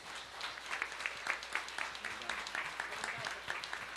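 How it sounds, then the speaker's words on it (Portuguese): A church congregation applauds during a service, with fairly faint, rapid pattering claps in an uneven rhythm, heard from a little distance. "Até aplaudir Jesus."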